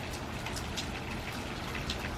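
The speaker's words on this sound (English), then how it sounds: "And it's raining." Steady rain falls on a dark mid-afternoon, a continuous even hiss of drops striking surfaces close by, with no voices or other sounds over it.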